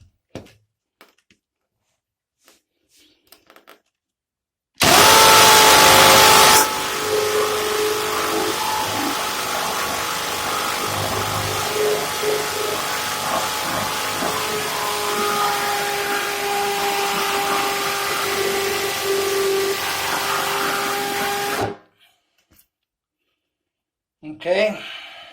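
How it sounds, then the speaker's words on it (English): A drill bores a hole in the wall for a shower handrail, starting with a sharp loud burst and then a sustained grinding whine for about seventeen seconds, close by, before stopping abruptly. "that gives me a place to start and to cut in to drill this hole in here with"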